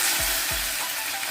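Chopped onions sizzle in hot oil with mustard seeds and cumin in a pan, a steady bright frying hiss with a couple of low scraping stirs up close.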